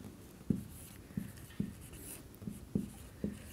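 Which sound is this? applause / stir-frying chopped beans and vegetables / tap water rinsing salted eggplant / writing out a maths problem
writing out a maths problem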